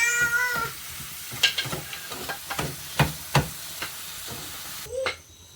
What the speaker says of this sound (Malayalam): നമ്മൾ നന്നായിട്ട് ഇളക്കി കൊടുക്കുക